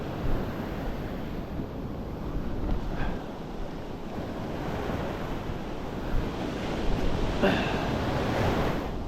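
Ocean waves breaking continuously on the Montauk shore during fall surf fishing, a steady roaring wash of surf with wind buffeting the microphone, a couple of sharper surges standing out.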